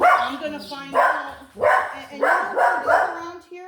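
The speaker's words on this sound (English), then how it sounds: "Sorry about the dogs barking." Several dogs bark nearby in repeated bursts while a person talks over them.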